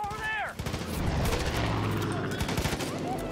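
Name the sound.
shotgun fire in the video game Far Cry 5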